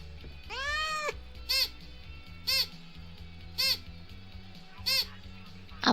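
Cat meows in a Roblox game: one long drawn-out meow, followed by four short, evenly spaced meows over a steady low musical background.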